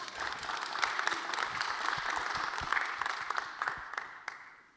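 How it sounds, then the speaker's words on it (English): A conference audience at a keynote fireside chat with a congressman applauds with dense, sustained clapping that thins out toward the end. "Yeah, you can applaud, absolutely."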